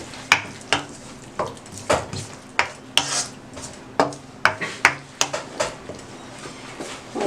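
A utensil scrapes and clinks against a pan as spinach and egg curry with fresh coriander is stirred, giving a steady run of sharp, close taps and scrapes about every half second.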